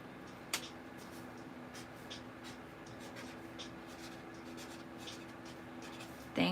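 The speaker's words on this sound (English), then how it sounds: "I'll write it down for you." Pen writing a discount code by hand on paper, soft scratchy strokes in a quiet room, a faint tap near the start and a louder knock at the end.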